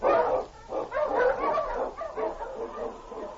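An Eskimo lead sled dog barks and yips repeatedly in an old-time radio drama set in the snowy Yukon. The barks are loud and close but have a thin, band-limited sound, with no talking.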